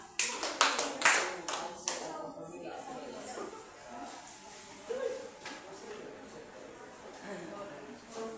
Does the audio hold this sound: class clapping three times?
yes